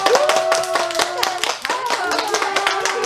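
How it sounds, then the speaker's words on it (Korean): Children clapping for each other in a class, a burst of uneven hand claps close by with a teacher's voice speaking over them. "서로 박수 주세요"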